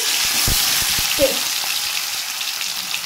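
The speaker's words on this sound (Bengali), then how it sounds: "এবার আমি এই মাখিয়ে রাখা মাছ বেগুনটা এর মধ্যে ঢেলে দেব।" Marinated bata fish and eggplant sizzling in hot oil in a kadai for chorchori, a steady loud frying hiss with a few low knocks near the start.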